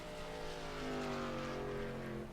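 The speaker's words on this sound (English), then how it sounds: "I hear the cars fine." Race trucks from a truck racing game at Las Vegas drone past as layered, rising and falling engine tones, fairly faint and steady with no talk over them.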